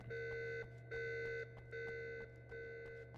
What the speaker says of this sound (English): I get that she's just gonna sit in here while this alarm blares